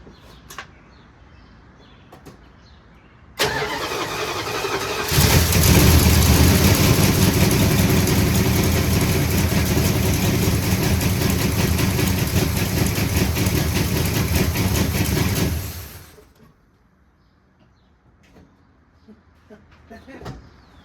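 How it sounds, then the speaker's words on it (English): A 1974 Dodge Power Wagon truck engine, after sitting unused for 15 years, cranks and fires up, then roars loudly and steadily at close range for about ten seconds before shutting off, leaving quiet. "15 years and it fired up that quickly"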